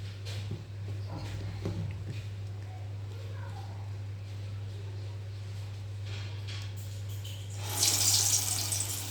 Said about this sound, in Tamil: நான் ஒரு கடாய் வச்சு எண்ணெய் ஊற்றி சூடு பண்ணியிருக்கேன் எண்ணெய் காஞ்சிடுச்சு இப்போ வடையை வந்து போட்டுப்போம்